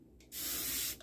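A single steady spray burst from a spray bottle that isn't spraying right, close and fairly loud, lasting under a second with a short hiss after.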